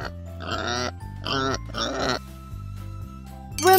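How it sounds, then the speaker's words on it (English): A pig oinks in a preschool alphabet and animal toy game, with several drawn-out grunting oinks in a row, loud and close. "Pig."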